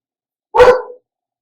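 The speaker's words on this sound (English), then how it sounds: "excuse our dog. He barks at air." A house dog gives a single sharp, loud bark close by, alone against silence, indoors during a sit-down chat.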